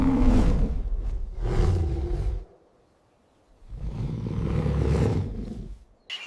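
Bear roaring, two deep, loud, drawn-out roars close by, separated by a brief silence.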